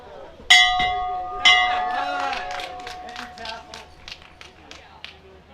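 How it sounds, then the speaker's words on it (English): A bell rung at a high school graduation gives two loud, bright, ringing strikes about a second apart, each tone lingering as the crowd breaks into applause and cheers. "You gotta ring the bell."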